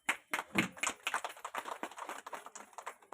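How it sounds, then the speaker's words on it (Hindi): An audience at a tribal workers' empowerment camp breaks into a scattered burst of hand clapping, many sharp irregular claps that start strong and thin out over a few seconds. "क्या सरकार के लिए ताली बजा सकते हैं?"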